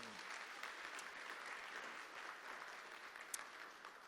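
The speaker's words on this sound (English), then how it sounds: "that in itself is worth a round of applause" Faint, distant applause from an audience at a university sports hall of fame induction ceremony, a continuous soft patter of many hands with a few sharper claps standing out.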